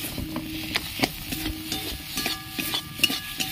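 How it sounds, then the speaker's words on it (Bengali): Green bean bharta with black cumin and garlic paste being stirred in a pan, a steady scrape of spoon against metal with soft sizzling underneath, close and alone without any talk. "ভালো করে এভাবে নাড়তে হবে।"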